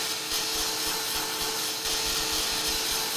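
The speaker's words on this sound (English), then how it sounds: "we're just going to hit this with a little bit of heat just to get it to dry up a little bit for us" Heat tool blowing steadily over wet craft paint on a mixed media stencil, a loud continuous whirring hiss that holds at a constant level throughout, no talking.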